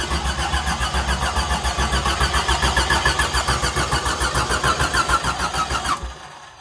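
An 1982 Chevrolet S-10 single-cab pickup with an inline-six engine cranks steadily for about six seconds, the starter's rhythmic churning loud and close, never catching, then cutting off to near silence; fuel starvation from an empty tank.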